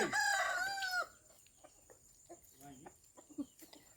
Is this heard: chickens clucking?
yes